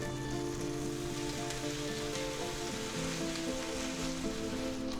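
Buttered bread sits butter side down in a hot pan, giving a steady, fairly quiet sizzle with a fine crackle and no talk.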